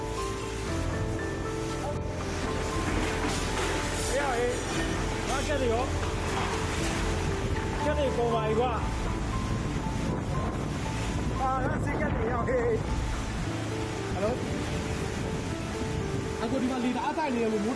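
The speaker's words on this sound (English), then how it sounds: "Powerful gusts of wind blew away chairs and bent even the sturdiest trees." Powerful storm wind gusts roar without a break, blowing chairs away and bending sturdy trees, while people shout and exclaim loudly over the buffeting.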